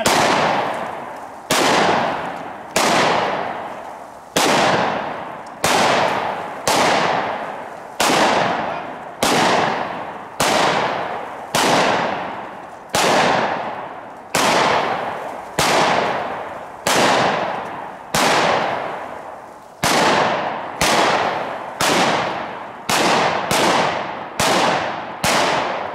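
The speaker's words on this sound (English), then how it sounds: "I've got a bunch of 2 liters set up, and we're gonna do some more ambidextrous shooting" Gunfire from ambidextrous shooting at 2-liter bottles: roughly twenty loud, close shots at a steady pace about a second apart, each a sharp crack with a short ringing decay.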